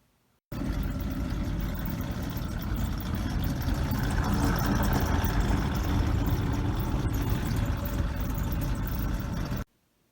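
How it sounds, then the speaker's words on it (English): A Goodman furnace blower motor, shortly before being replaced, runs with a steady, loud, broadband whirring drone that starts abruptly, holds constant for about nine seconds, then cuts off. "The next clip will show what the motor sounded like."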